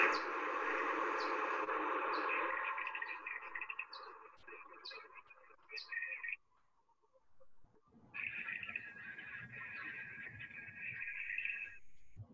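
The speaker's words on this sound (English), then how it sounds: "I actually have some bat echolocation of local species we have. So here's the little brown bat" Recorded echolocation calls of the little brown bat, played back as a series of short high-pitched chirps and chips over a dense, buzzy lower-pitched layer, continuous and fairly loud, with a brief pause near the middle.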